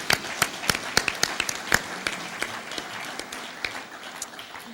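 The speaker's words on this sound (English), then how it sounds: "give her a round of applause for putting up with me for 39 years" Sparse, scattered claps from an audience at a Toledo Rotary meeting, a small crowd giving a thin, uneven round of applause that stays moderately quiet throughout.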